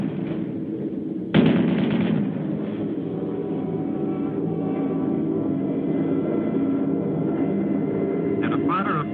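Anti-aircraft flak and fighter plane gunfire during a World War II bomber squadron's aerial combat, a sudden loud burst giving way to a steady dense roar of aircraft engines and firing under a narrating voice.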